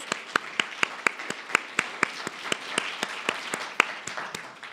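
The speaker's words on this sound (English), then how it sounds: "Why don't we welcome them back? Give some applause." Light applause from a small audience at a breast cancer panel discussion, a handful of sharp individual claps standing out over a softer bed of clapping, steady and close.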